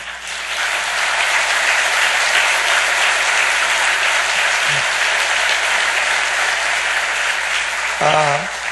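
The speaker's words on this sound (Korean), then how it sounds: "우리가 큰 박수로 환영하겠습니다" A church congregation gives a long, loud round of applause welcoming two visiting guests, a continuous even roar of clapping with a brief voice breaking through near the end.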